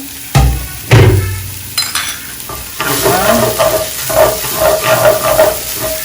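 Onions and whole spices frying in oil in a pot for Arab kabsah rice soup, opening with a few loud clanks and stirring knocks, then a dense crackling sizzle rising and holding, close and loud with no talking.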